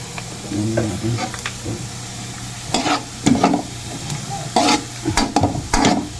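Ginger stir-fried for squid adobo, with a steady sizzle under repeated scraping stir strokes that come in clusters, close and fairly loud.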